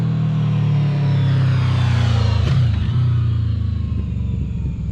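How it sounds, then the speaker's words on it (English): A 2020 Yamaha VMAX 1700 V4 engine rumbles loud and deep, its steady throaty drone shifting pitch slightly as it slows under engine braking, alone without talk. "one of the things that I really like about that sound is when you're slowing down and engine braking."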